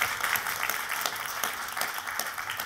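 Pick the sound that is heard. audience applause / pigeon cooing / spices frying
audience applause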